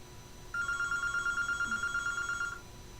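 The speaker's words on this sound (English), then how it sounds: "And the phone is ringing." An old-style telephone bell rings in a rapid trilling burst lasting about two seconds, clear but moderately quiet against a faint background hum.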